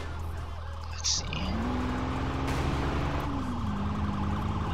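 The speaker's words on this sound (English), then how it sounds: "this car sounds so nice" A car engine in a video game, revving steadily with a rising and falling tone, loud and continuous with a brief high chirp early on and no talk.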